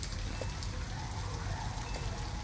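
Steady rain hisses throughout a scene in Detroit: Become Human near an abandoned house, a constant wash of drops with a few faint ticks and no voices.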